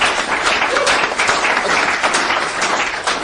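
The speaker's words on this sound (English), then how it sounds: "I think we should all give Liam a round of applause before we start" Audience applause fills a talk or lecture hall, a dense, steady wash of many hands clapping at full volume for the whole stretch, with no break.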